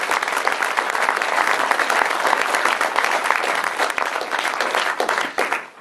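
A crowd applauds warmly and steadily, a dense patter of many hands clapping, tapering off slightly at the end.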